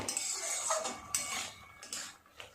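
A metal lid clinks and scrapes against a cooking pot as it is lifted to check greens and potatoes simmering for a bitter gourd curry, with a few sharp metallic taps in a quiet kitchen.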